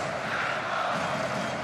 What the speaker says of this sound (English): be known their frustration with some boos.